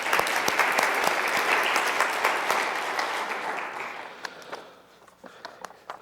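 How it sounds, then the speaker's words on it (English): Church audience applauding skit actors: a dense, loud wash of many hands clapping that holds steady, then thins out and fades toward the end, leaving a few scattered claps. "Let's give them another big round of applause."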